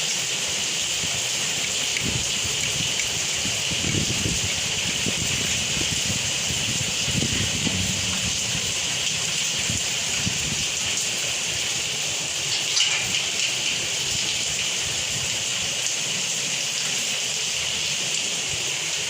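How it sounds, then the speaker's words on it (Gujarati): Steady rain falls outdoors near a pipal tree, a continuous broadband hiss with dense patter holding an even level throughout, with no voices. "વરસાદ જો પાછો ચાલુ થઈ ગયો છે"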